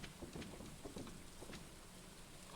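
Rain falling in the Stardew Valley video game, a dense continuous hiss of drops with faint pattering texture, steady and fairly soft throughout the short stretch.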